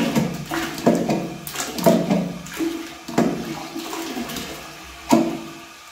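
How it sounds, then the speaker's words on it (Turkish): Toilet flushing after a stuck cistern flush mechanism that leaked water was freed, with gushing water surging in several loud bursts before the tank shuts off, close and alone. "Bu şekilde sifonu kullanıyoruz."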